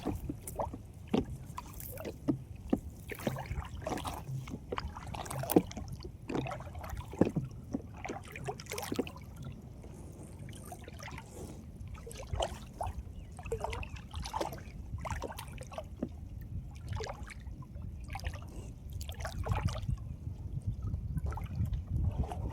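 A small fishing boat moves slowly through water, with a steady low churning and wash broken by repeated splashes and knocks, heard close and fairly quiet without voices.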